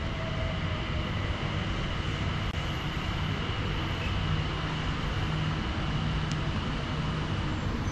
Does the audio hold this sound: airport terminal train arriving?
yes